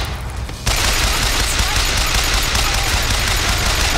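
Dense, continuous gunfire from a firefight in the video game Bioshock Infinite, erupting loudly after a brief quieter moment and sustained as rapid overlapping shots with no talking.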